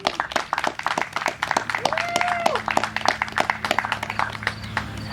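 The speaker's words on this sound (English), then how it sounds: "I just want to give a huge round of applause to everybody that made this event here today possible" An audience applauds the organizers of a vegan festival, with steady claps, cheers and a whoop rising over the crowd for several seconds.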